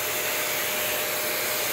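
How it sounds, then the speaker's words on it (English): Air hisses steadily around the nozzle of a running Kenmore Elite 21814411 vacuum cleaner, a constant, even rushing sound with no talking. "And then you can hear a lot of leaking."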